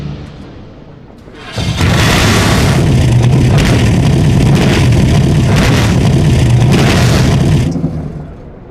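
A person imitates a V8 engine with their voice, a loud, close, sustained revving roar that swells in, holds for several seconds with pulsing surges, then fades away.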